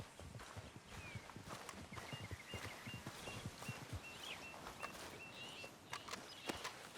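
Horse hooves clip-clopping at a steady walking pace in Red Dead Redemption 2, soft and fairly faint, with light bird calls in the background.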